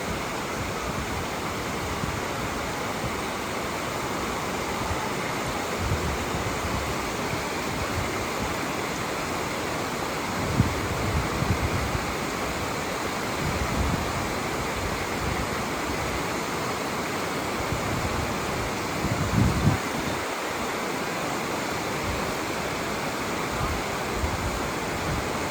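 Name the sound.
rushing water at Tallulah Gorge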